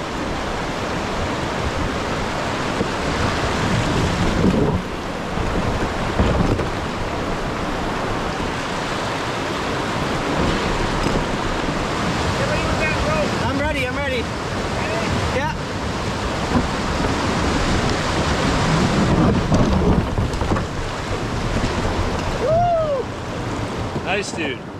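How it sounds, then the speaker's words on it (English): Canoe running down a rapid waterfall in the Temagami wilderness, with a constant loud rush of churning whitewater throughout and occasional people talking over the roar. "Yeah, that's a waterfall."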